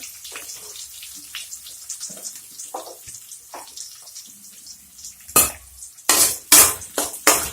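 Small onions being sautéed in a pan for crab kuzhambu, quiet scraping stirs and a soft sizzle, then several loud, close splashy bursts near the end.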